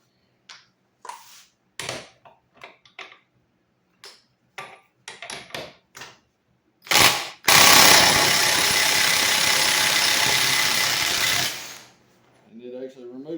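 Snap-on 18V cordless impact wrench working on an automotive fastener: a few short clicks and bursts, then one loud sustained hammering run of about four seconds that cuts off abruptly, close to the listener.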